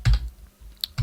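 Insert and Delete keys pressed on a computer keyboard while working in a map editor, a few soft clicks and taps spread over a second, close and fairly quiet with no talk.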